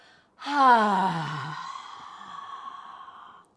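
A single open-mouthed, breathy exhale during a yoga forward fold starts with a voiced "ha" and then trails off into a long, fading rush of air, close and clear, with no other sound.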